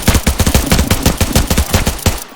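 Rapid M110 rifle fire in the shooter game Arena Breakout, a loud, steady string of close shots cracking in quick rhythm for the whole stretch, with no voices over it.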